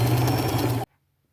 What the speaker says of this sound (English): stretch and sew another piece of elastic on both sides.